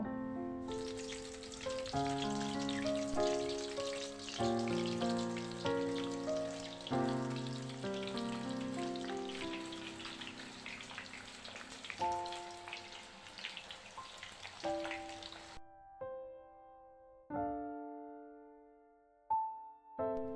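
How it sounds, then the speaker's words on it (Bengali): Thin potato slices fry in hot white oil in a wok over a slow-to-medium gas flame, giving a continuous bubbling sizzle under loud instrumental music that then stops while the music plays on alone. "গ্যাসের ফ্লেম স্লো টু মিডিয়ামে রেখে আমি চিপসগুলোকে ভেজে নেব"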